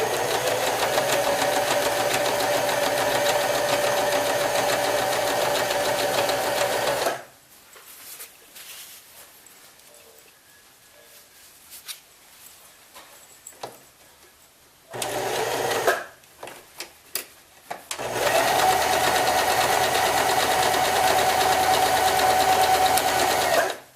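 Sewing machine stitching a chain stitch along the lines of a quilt block with a 1/4 inch foot, a loud, close, steady mechanical whir in long runs broken by quiet pauses and short bursts.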